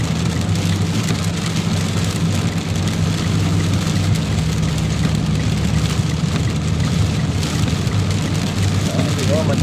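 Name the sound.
heavy rain pouring in Dubai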